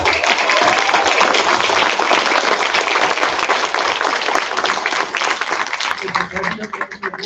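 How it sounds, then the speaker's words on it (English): Audience applause at a school board meeting honoring a Division I band, with dense steady clapping sustained for several seconds and a voice speaking over it. "Give them a round of applause."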